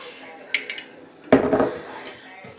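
A metal utensil scrapes and clinks against a cooking pot while sauerkraut is mixed in, giving a few short knocks followed by a louder, longer scraping stir, all close and without talk.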